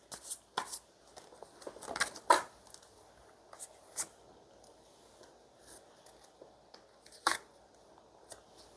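Tarot cards are drawn from a deck in a quiet room, giving close, crisp snaps and soft sliding rustles at irregular intervals with pauses between.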